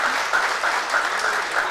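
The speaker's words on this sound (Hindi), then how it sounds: "दोस्तों तालियां तो बजा सकते हैं।" Audience at a Bhopal mushaira applauds, steady dense clapping with a few pulsing swells, moderately loud and continuous for the brief moment.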